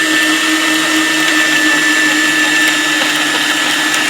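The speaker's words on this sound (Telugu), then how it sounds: "తగినంత సాల్ట్, ఈ రెండు వేసి మిక్సీలో నీళ్లు పోసి కొట్టేసుకోవాలమ్మా" A kitchen mixer grinder whirs loudly and steadily as it blends salt and water for a summer drink, a constant high-pitched motor hum with no pauses and no talking.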